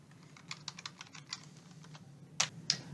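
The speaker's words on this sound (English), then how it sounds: "Let's type in motor vehicle in the search box." Someone types a search query on a computer keyboard, a quiet run of light, quick key taps close by, ending with two sharper, louder key presses.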